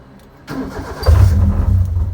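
A Mercedes C63 AMG engine cranks after a quiet start, then catches and settles into a deep, loud rumble close by.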